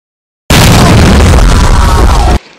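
An exploding-candy blast in a cartoon edit, a sudden loud, harsh boom that cuts in after silence, holds at full volume for about two seconds with clipped distortion, then drops away abruptly.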